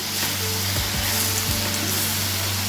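Ivy gourd sautéing without water in a clay pot over low heat, giving a steady, close hiss of sizzling that continues evenly throughout with a low background hum and no talk.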